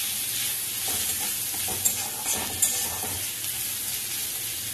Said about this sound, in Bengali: এবার দিয়ে দেবো আমি এর মধ্যে একটু কাজু, এমনি বাদাম থাকলেও এমনি বাদাম দিতে পারেন, কোনো অসুবিধে নেই। এটাকে একটু এর মধ্যে ফ্রাই করে নেব।